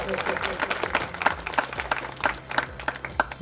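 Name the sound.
applause, clapping to welcome a guest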